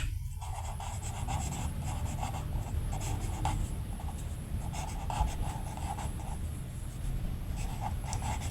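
Pen or pencil scratches steadily across paper as numbers are written out for a third-grade math solution, a close, continuous scribbling with short strokes.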